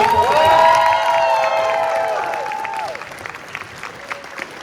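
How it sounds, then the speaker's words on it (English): A crowd applauds and cheers loudly with whoops, the clapping tapering off after a few seconds into scattered claps. "Can we have another round of applause just for everybody?"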